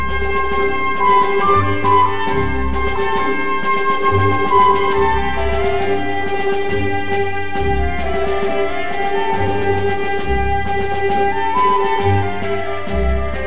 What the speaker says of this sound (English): this is the muted trumpet with that little glowing flute accompanying him on this this continuation of our bolero melody.